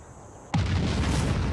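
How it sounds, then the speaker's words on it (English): A nuclear explosion in the strategy game Civilization VI bursts in suddenly after near silence, then swells into a loud, sustained roaring rumble that holds steady to the end. "It's a much smaller nuclear explosion."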